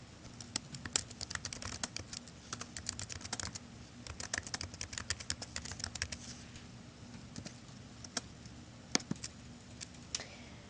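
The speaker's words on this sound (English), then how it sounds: "and start typing" Steady, soft typing on a computer keyboard, with rapid irregular key clicks close by, no voices.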